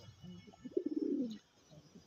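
Old-breed domestic pigeons kept in a loft in Domjur, Howrah, give a soft throaty cooing phrase up close, a quick rolling burst of low coos that fades to quiet.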